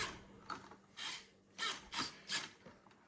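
Plastic steering parts of a WPL RC car scrape and click as the wheels are turned by hand, in several short rubbing bursts with quiet gaps between them, close and faint.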